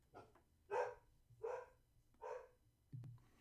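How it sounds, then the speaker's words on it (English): A single dog barks four times in an even rhythm, moderately close and fairly quiet indoors, with a brief thump at the end. "Sorry, the dog was barking."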